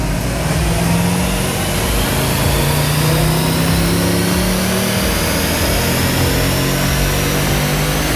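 Jeep SRT 6.4L HEMI V8 with a new camshaft and its cylinder-deactivation system deleted, revving steadily on a dyno during tuning, a loud continuous engine roar with rising pitch sweeps close by, no voices.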